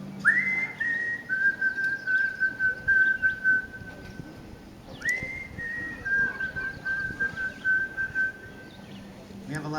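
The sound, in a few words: whistled imitation of a bird's song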